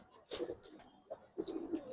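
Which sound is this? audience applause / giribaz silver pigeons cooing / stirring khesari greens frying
giribaz silver pigeons cooing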